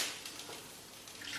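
A splash of bone broth is poured into a cooking pan, giving a soft, hissing liquid wash that runs through the whole moment at a fairly faint level, with no one talking.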